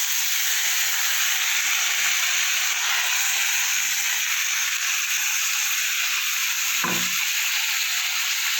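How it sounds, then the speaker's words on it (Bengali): Spice paste of onion, garlic and green chili frying in a pan of sugar-browned oil for a bean dish, giving a steady close hiss with one brief knock near the end. "এবার আমি দেবো টেস্ট করে যে মশলাটা রেখেছিলাম সেটা দেবো পেঁয়াজ রসুন আর কাঁচা লঙ্কা"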